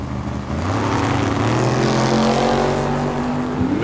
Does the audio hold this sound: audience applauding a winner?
no